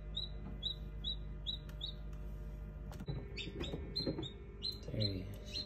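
A newly hatched chick chirps in short, high, repeated peeps, close and fairly soft, with rustling and small knocks in between and a voice briefly underneath.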